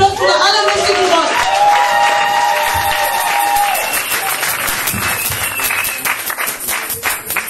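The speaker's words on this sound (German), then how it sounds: "Ich bitte euch um einen dicken großen Applaus für alle wichtigen Worte." An audience in a hall at a youth day gathering breaks into loud, sustained applause and cheering, with music tones ringing over the crowd at first and clapping continuing throughout.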